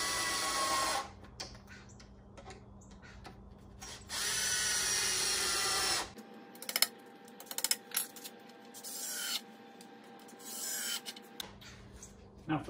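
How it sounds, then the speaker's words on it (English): A power drill with a star bit drives screws into a deck railing in two sustained bursts, then pauses amid clinks and rustles before buzzing briefly again near the end, close and loud. "Star bit drill, drive them in."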